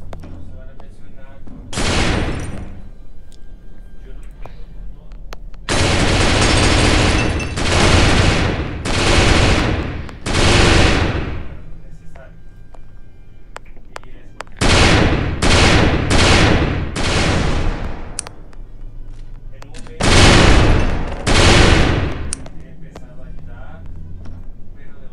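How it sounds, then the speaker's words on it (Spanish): Explosions and bursts of blasts tear through a restaurant in the Melon Playground video game, loud and close in long rumbling runs and separate single booms, with a steady low background in between. "Y es hora de explotar este restaurante."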